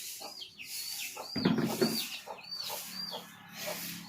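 Chickens cluck and squawk in short bursts over a quiet background, with a louder rustle midway; no talking.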